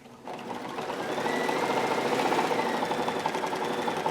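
A sewing machine with its stitch regulator on starts after a brief quiet moment and then stitches steadily, a fast, even mechanical whir that holds through to the end.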